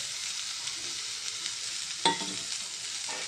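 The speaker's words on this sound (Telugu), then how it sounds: "ఇదిగోండి ఫ్రెండ్స్, కాలీఫ్లవర్ బాగా ఫ్రై అయింది." Cauliflower fries in a pan with salt, chili powder and coriander powder, giving a soft, steady sizzle and one sharper scrape of the stirring spoon partway through.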